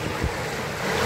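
Water flowing at Solanpada dam makes a steady, broad rushing wash mixed with wind buffeting the microphone, close and continuous with no talk.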